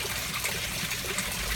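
Pond water trickling steadily back from a soilless aquaponics bed of rocks into a sub tank below an above-ground 1000 gallon pond, a soft continuous dribble close by with no talk.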